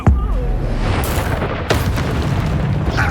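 A Confringo spell blast in Hogwarts Legacy lands as a sharp, booming impact at the start, with a second burst later over steady, dense game rumble.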